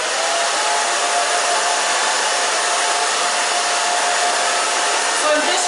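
A hair dryer blows on hair at close range, a loud, unbroken whirring roar that stays constant from start to finish with no speech.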